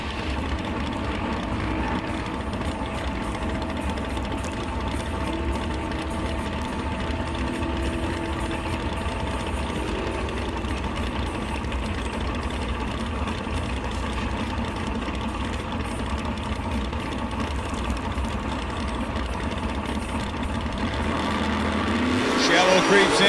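Nitrous drag race cars, including a 1990 Mustang fox body, rumble and roar at a drag strip during the Shakedown Nationals, a continuous loud engine drone that builds in intensity toward the end.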